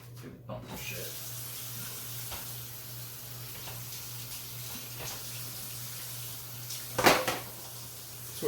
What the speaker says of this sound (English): Let's get rid of this grease first. Dump it down the drain.